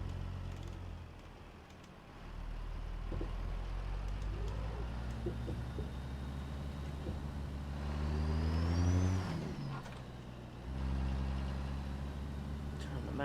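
A modded heavy-truck diesel engine (Cat C15, Cat 3406B, Detroit DD60 or Cummins N14) in a truck-driving video game, a fairly faint low drone that revs up and falls back a few times, with someone talking over it.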